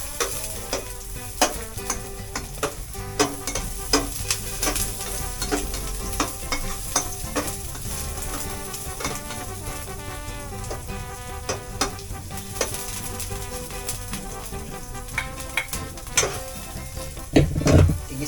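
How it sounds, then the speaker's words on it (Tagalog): Onion and garlic sauté in a pan under constant close sizzling, with frequent metallic scrapes and taps of a utensil stirring them, steady over a long stretch. "Igisa-gisa lang natin hanggang maluto ang ating sibuyas at saka bawang."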